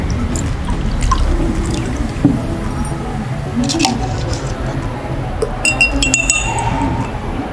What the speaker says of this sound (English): It is lemon juice. Now I am going to mix with water.